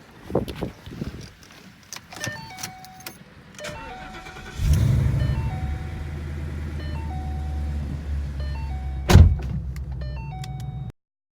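A 2014 Ford Mustang GT with a Coyote 5.0 V8, intake cams and an X-pipe, heard from inside: keys and power-window whirs first, then the engine starts and settles into a steady idle and rumble with one louder burst.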